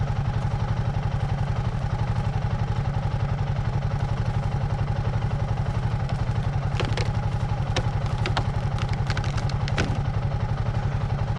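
A Royal Enfield Himalayan 450 adventure motorcycle idles close by on a wooded trail with a steady, fast, even thump, while a few light clatters and knocks from handling the bike sound over it. No one speaks.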